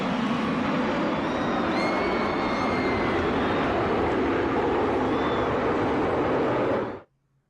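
Aircraft roar overhead in a loud, steady flyover at a Nashville racetrack after the national anthem, holding full strength for about seven seconds before cutting off abruptly.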